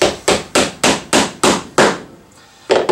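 Hammer blows drive a socket to seat a part on a Novakon Torus Pro chip curtain, seven loud, close, evenly spaced metallic strikes, then a pause and one more hit.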